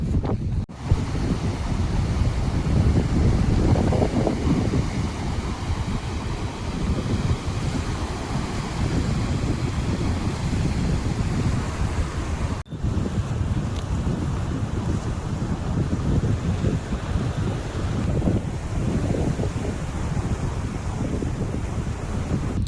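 Sea waves wash steadily onto an empty beach while strong wind buffets the microphone, a continuous loud roar of surf and gusts throughout with no voices.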